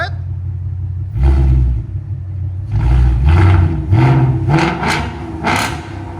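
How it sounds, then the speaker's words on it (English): A 2024 Ford Mustang GT 5.0L V8 with Valvetronic Designs mufflers, valves open, barks through several sharp, loud revs in quick succession, each burst rising and dropping back to a deep rumbling idle. "Now, this is valves open."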